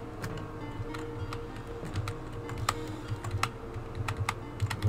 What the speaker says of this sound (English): Well, typewriter, save progress